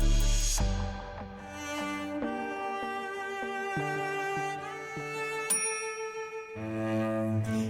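Bell struck in the video game Hades, a series of clear ringing dings at uneven intervals, each with a bright tone that decays, mostly alone and fairly soft.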